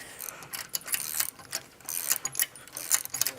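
A ratchet clicks in quick, uneven bursts while tightening nylock nuts on a brake caliper bracket of a 1926-style Nova project car, close and fairly loud.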